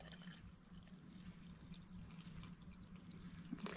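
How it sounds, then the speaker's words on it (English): Hot water poured into a teapot over a tea bag, a soft, steady trickling stream that runs quietly for several seconds and ends with a small clink. "pour your hot water in."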